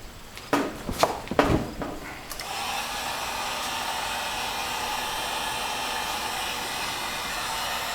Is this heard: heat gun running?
yes